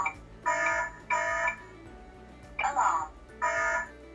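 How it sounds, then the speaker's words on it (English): A Hikvision DS-KH9310 indoor intercom station sounds its burglary alarm notification. Four loud, buzzy electronic tone bursts, each roughly half a second long, pulse at an uneven rhythm over a faint background hum. "we can receive a burglary alarm notification"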